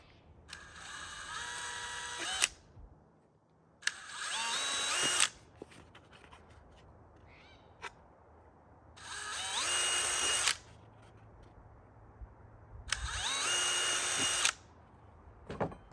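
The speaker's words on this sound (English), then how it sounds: "we're going to drill them out with a 7/64 drill bit" A power drill with a 7/64 bit bores holes in a scrap piece for screw mounting, running in four separate, loud whirring bursts of a couple of seconds each, with quiet pauses between.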